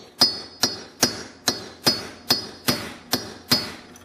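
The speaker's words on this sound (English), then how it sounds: "I'm going to put the punch on it here like that and then tap it." A hammer taps a metal punch to drive out an ATV front wheel bearing: nine sharp, ringing metallic strikes spaced evenly about half a second apart, close and alone.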